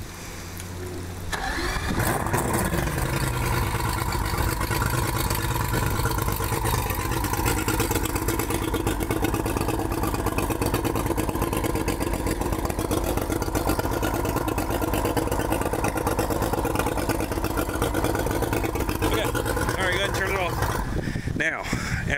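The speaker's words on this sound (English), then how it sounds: "One more time, let's just start the engine." A Ranger boat engine cranks and catches during a test fire, then settles into a steady, loud, rumbling idle that runs continuously close by, with faint voices underneath.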